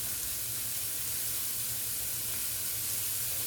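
Non-stick cooking spray hissing steadily from a can into a pan on the stovetop, a faint continuous spray with no talking.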